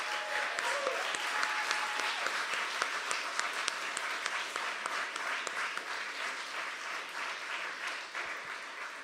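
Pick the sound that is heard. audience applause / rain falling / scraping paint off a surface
audience applause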